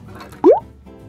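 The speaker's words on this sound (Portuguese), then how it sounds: "eu queria dar um mergulho na piscina também" A single short watery plop as a cartoon character dives into a swimming pool at a beach, loud and close, over a faint background murmur.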